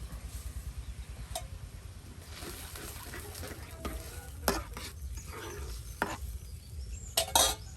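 Goat meat bhuna curry frying with ground spices in a pot, cooked village-style: a steady low sizzle and bubbling with occasional metallic clinks of a stirring spoon.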